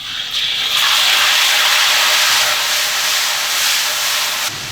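Chili bean paste frying in hot rapeseed oil in a wok for a Chongqing spicy grilled fish sauce, a loud, steady sizzle that fills the whole moment with no voices.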